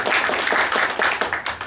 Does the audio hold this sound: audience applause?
yes